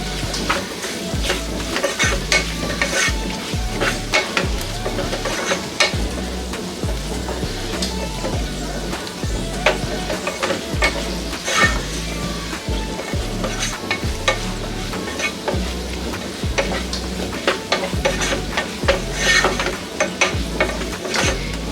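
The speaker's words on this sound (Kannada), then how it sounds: "ಎಲ್ಲ ಮಸಾಲೆಗಳನ್ನ ಹಾಕ್ಕೊಂಡು ಫ್ರೈ ಮಾಡ್ಕೊಳ್ಳೋಣ" Potatoes frying with turmeric and garam masala in a pan: a constant close sizzle with busy, repeated stirring and scraping throughout, no talking.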